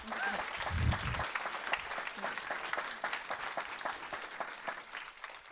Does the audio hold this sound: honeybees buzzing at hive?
no